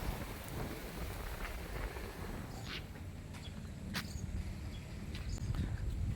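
Steady rain falls over a hillside viewpoint near Siaha in Mizoram, a dense, even hiss that fills the whole stretch, with a few brief sharper spatters breaking through.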